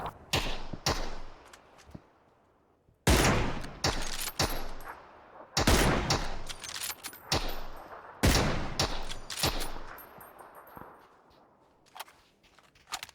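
Rapid bursts of gunfire from the video game PUBG crack out in several loud volleys with short pauses between, sharp and close, with a few scattered single shots trailing off.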